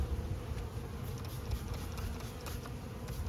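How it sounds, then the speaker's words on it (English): Honeybees from newly installed packages buzz around close by, a dense continuous drone with individual bees darting past, steady and moderately loud with no talk. "They're going towards your head, but they're not trying to sting"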